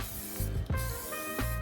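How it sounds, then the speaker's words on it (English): Short hissing bursts of spray paint priming kitchen cabinets during a camper makeover, several quick sprays in a row, faint and close, with no voices. "Quick spray paint prime"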